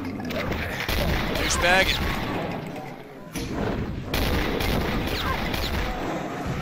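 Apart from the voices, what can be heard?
gunshots shooting a crate open in the video game Dew Randomizer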